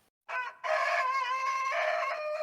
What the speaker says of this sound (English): That's his chicken death throw that you just heard there.